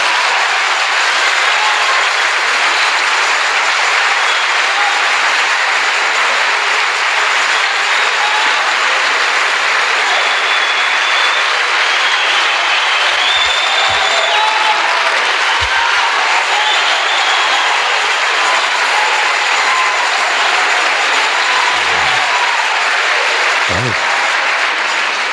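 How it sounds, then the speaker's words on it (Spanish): Women in a church congregation clap together in a dense, continuous patter of applause that fills the room, steady and loud for the whole stretch with no speech over it. "Quiero ver palmas de solo las hermanas."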